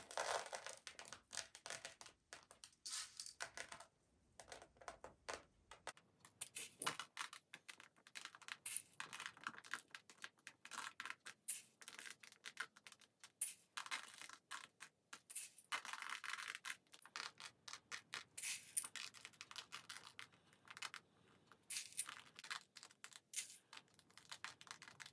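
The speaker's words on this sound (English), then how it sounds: "And I'm going to start with my crushed glass." Crushed glass is handled and sprinkled onto a canvas for a black and silver craft piece, producing a long run of close, dry crackling, clicking and gritty scraping that comes in bursts with brief pauses.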